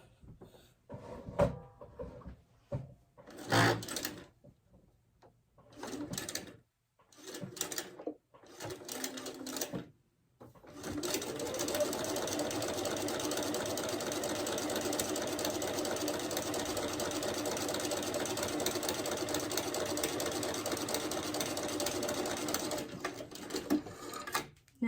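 A domestic sewing machine stitches quilt block pieces, first in short bursts separated by pauses and handling clicks, then running in one long, steady, even whir for over ten seconds close by.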